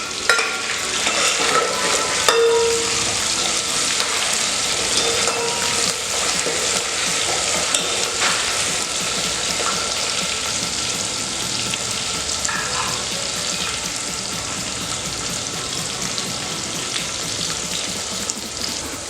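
Chopped onions frying for sambar, a steady close sizzle with occasional stirring scrapes running the whole time and no talk.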